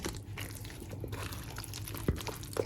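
Apple pie filling pours into a crust with soft, wet, gloopy slides and a couple of small plops near the end, close up and quiet.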